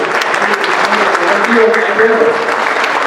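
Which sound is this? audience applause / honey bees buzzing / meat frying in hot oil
audience applause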